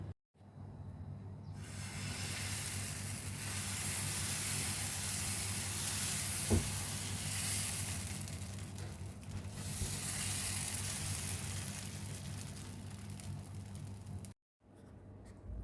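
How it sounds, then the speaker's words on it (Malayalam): Green gram dosa batter sizzles on a hot pan greased with ghee, a steady close hiss that holds for most of the clip before cutting off abruptly near the end. "ദോശ ഉണ്ടാക്കി തുടങ്ങാം."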